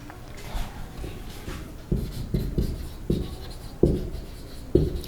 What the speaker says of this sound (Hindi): तो यहां पर यह भी लिख रहा हूं मैं